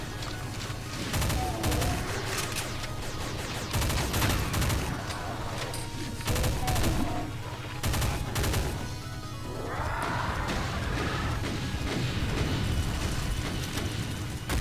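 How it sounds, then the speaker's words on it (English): Rocket explosions from Doom 2 go off in rapid, repeated bursts, loud booming blasts clustered together with brief lulls between volleys over continuous game action noise. "Bullying enemies with rockets is just the heart and soul of this WAD"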